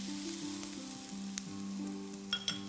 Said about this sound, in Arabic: أنا عم بحمص البهار مع البصل، ما أستعجل بإضافة أي سوائل